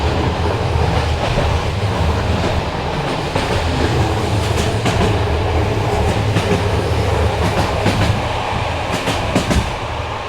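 Bulgarian passenger train on the Istanbul to Sofia route, rolling along the rails and heard from inside a carriage: a steady, loud rumble with continuous wheel clatter and faint squeaks, no voices.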